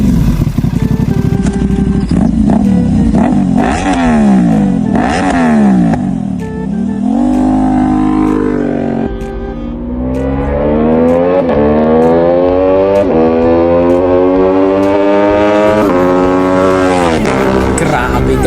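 An Aprilia Tuono 660 motorcycle with an aftermarket muffler revs hard, its engine pitch rising and falling in repeated sweeps before climbing steadily through a long, loud acceleration, close and dominant throughout.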